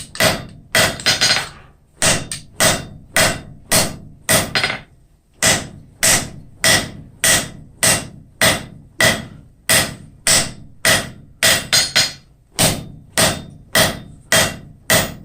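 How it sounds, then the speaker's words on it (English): Steady, forceful hammer blows on hot aluminum ring out one after another in a regular rhythm, each a sharp metallic strike, with brief pauses between short runs of hits. "go back on to hammering"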